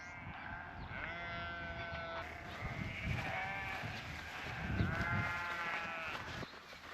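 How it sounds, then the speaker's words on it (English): A flock of sheep on the Isle of Lewis bleats repeatedly, calls overlapping and answering each other outdoors, some near and some a little farther off. "I love how all the sheep are just having wee conversations."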